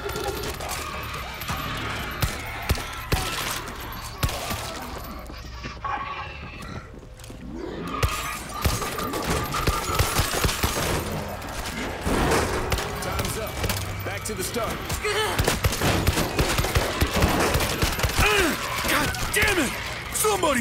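Gunfire in the video game World War Z during an intense tunnel battle, with dense rapid shots and crackling bursts running almost nonstop, loud and close. Voices talk over it and background game noise fills the mix.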